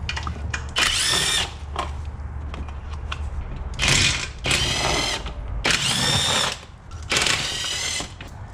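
A power tool spins out the 10 millimeter bolts holding the plastic shield on a 2008 Kia Sportage, with about five loud, close whirring bursts separated by brief pauses and background workshop noise.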